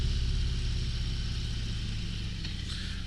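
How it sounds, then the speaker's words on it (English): A 2022 Harley-Davidson CVO Road Glide Limited motorcycle engine rumbles steadily while riding, a loud continuous low drone with wind rush and no break across the few seconds. "Boy, that power and the sound, it's so smooth, it's so awesome. This bike is something else."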